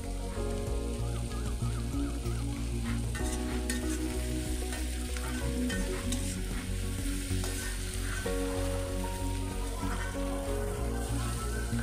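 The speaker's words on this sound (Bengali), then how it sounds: "ক্যাপসিকামটাকেও মিনিট খানেক ধরে পেঁয়াজের সাথে একটু নাড়াচাড়া করে নিতে হবে" Capsicum and onion, salted and softening, are stir-fried in a pan, giving a steady, continuous sizzle under loud melodic background music that plays throughout.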